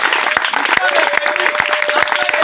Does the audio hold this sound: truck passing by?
no